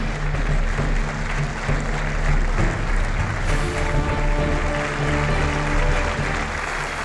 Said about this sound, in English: Give a big round of applause to Dilip Chabria for the DC Avanti.